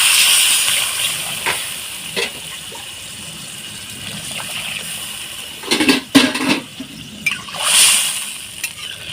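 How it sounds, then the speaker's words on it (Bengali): Warm water poured into a pan of fish curry with papaya and potato, giving a few short gushing splashes toward the end after a quiet stretch of faint kitchen hiss. "এবারে আমি উষ্ণ গরম জল পরিমাণ মতো দিয়ে দিলাম"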